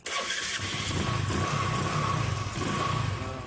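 A motorcycle engine turns over and starts by remote via an anti-theft alarm, then runs with a loud, steady rumble nearby.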